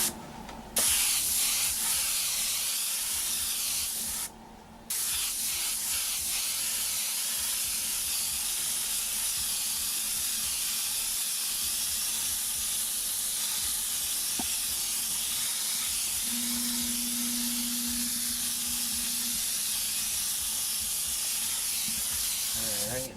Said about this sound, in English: Just going to take nice mist and frost it right over the whole thing.